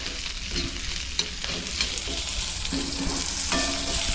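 Onion fries in a pan for a Malvani-style brinjal bharit, a continuous close sizzle with periodic scraping stirs of a spatula against the pan.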